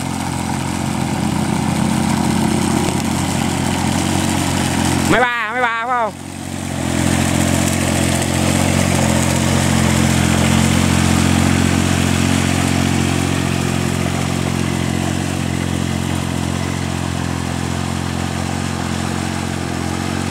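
Engine of a farmer's homemade soil-leveling machine running steadily close by, a continuous low chugging drone throughout, briefly disrupted by a clattering knock partway in, with someone talking over it.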